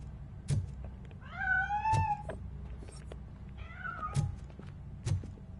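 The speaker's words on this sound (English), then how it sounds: "That cat must be hiding inside." A cat in the Robocop Rogue City video game meows twice with drawn-out, rising-then-falling cries. Soft thumps sound between them and another short meow follows, all clear and close with no talk.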